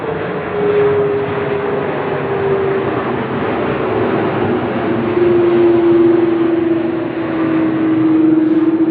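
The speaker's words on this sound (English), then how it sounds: "Another patrol plane going over my head." Patrol plane flying overhead, a loud, steady engine drone with a sustained tonal hum that holds level and swells slightly toward the end, heard alone with no talking.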